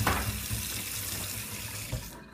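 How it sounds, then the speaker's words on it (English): Hands being rinsed under a running tap, with a steady, moderately quiet splashing stream that carries on unbroken for a couple of seconds. "I have to rinse off my hands here."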